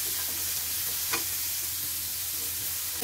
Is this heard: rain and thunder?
no